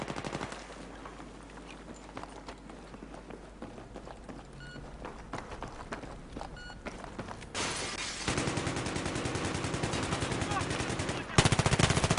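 Bursts of automatic gunfire from Battlefield 3 multiplayer roll on continuously, growing louder and denser toward the end with rapid repeated shots, footstep-like clatter underneath and no speech.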